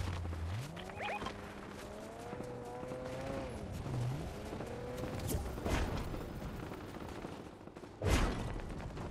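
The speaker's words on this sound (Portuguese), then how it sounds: "Eita, estão trocando tiro." Gunfire exchange in the video game Fortnite, scattered shots and bursts mixed with mechanical in-game sounds and a sharp louder blast near the end, moderately loud and continuous throughout.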